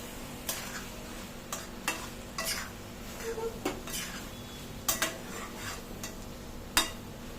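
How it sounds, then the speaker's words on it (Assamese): A spoon stirs mixed vegetable sabji with ghee in a pan. Sharp scrapes and clinks come at irregular intervals over a faint steady sizzle, close and fairly quiet. "ইয়াতে দিছোঁ ঘি এচামুচ দি গোটেইখিনি আকৌ অলপ লৰাই দিলোঁ"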